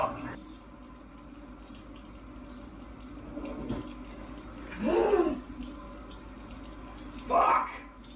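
Water drips and trickles off freshly rinsed raw meat in two short, distinct splashy bursts a few seconds apart, set against a faint, steady background hum.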